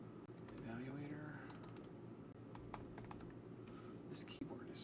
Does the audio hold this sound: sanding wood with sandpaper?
no